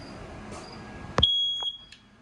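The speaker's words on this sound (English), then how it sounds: "Then in towards the slide out, you have your smoke detector." A single shrill electronic beep from a smoke detector in a 2022 Tracer 31BHD travel trailer rings out for about half a second, clear and fairly close, over faint background hiss.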